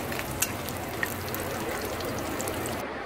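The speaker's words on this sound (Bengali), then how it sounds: "আবার আমি ভেজে নিচ্ছি, পাল্টিয়ে পাল্টিয়ে দিচ্ছি" Chicken hearts frying in hot oil in a pan while being turned, a steady close sizzle throughout with a couple of brief clicks from the turning, alone with no talk.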